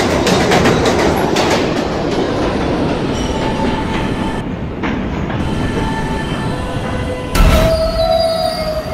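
New York subway B train wheels squeal loudly against the rails over a continuous rumbling clatter, with a sharp screech rising near the end.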